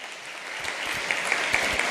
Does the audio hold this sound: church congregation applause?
yes